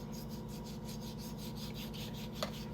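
A knife saws back and forth through pork in a steady rasping rhythm, close up, with a low constant hum underneath.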